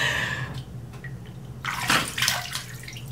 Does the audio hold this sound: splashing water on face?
yes